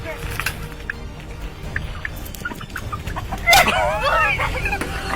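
Chickens cluck and squawk agitatedly amid a noisy background, with a burst of excited calls in the final seconds.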